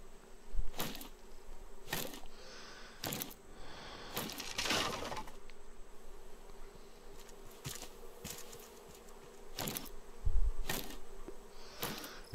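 Bees buzzing in the survival video game Raft, a steady insect drone with repeated louder buzzing passes close by, playing alone without speech over a quiet ambient background.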